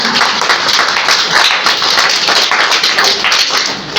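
Loud, sustained applause from a crowd, steady clapping filling the whole stretch.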